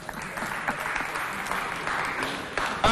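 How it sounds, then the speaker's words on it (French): Game-show audience clapping for a contestant named Fissou, a continuous, moderately loud patter of many hands with a few sharper individual claps, running unbroken to the end. "Est-ce qu'on peut applaudir Fissou?"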